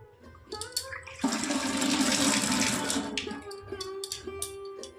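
Tap water runs in a steady, loud gush for about two seconds at home while hands are washed, then cuts off, leaving light clinks and drips.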